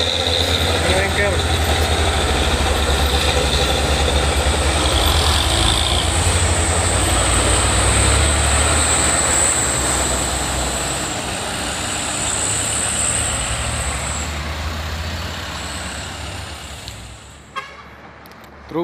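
Brown Fuso truck grinds up a hill, its engine a loud, steady low roar that eases off toward the end, with a long high horn-like tone partway through.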